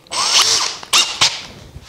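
A power drill bores dowel holes in wood for a raised-panel dresser end, whining loudly for about half a second, then two short, sharp bursts follow, close by with no voices.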